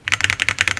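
Fast, crisp clacking of keys being typed on a Geonworks Frog TKL mechanical keyboard, about a dozen close, loud keystrokes in quick succession with no talking.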